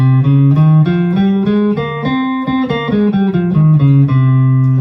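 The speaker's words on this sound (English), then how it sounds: "C Phrygian would sound like this." A guitar plays a C Phrygian mode scale, plucked notes stepping steadily up and then back down in an even rhythm, clear and loud with no voice over it.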